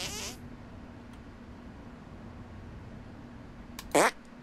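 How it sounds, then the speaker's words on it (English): A fart detonation effect from the video game South Park: The Stick of Truth: one short, loud, sputtering burst near the end over a quiet game background, after a brief fizzing sound at the start. "Make your fart detonate behind me."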